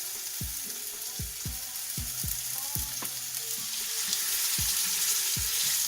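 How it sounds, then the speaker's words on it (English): Chicken sizzling in a preheated pan, a continuous bright crackling hiss with a series of sharp clinks and taps at irregular intervals, close and steady throughout. "now I got the pan preheated, and that's the sound you're looking for"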